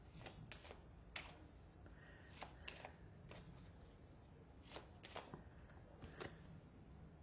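Tarot cards being shuffled and drawn by hand, a steady papery rustle broken by crisp snapping flicks and riffles at an irregular rhythm, close and fairly quiet with no talking.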